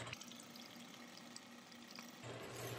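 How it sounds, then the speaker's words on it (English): Water is poured into a simmering pan of vegan curry vegetables seasoned with curry powder and cumin, giving a soft sizzling hiss and bubbling that stays low and close throughout. "Just gonna add a bit more water just as it evaporates."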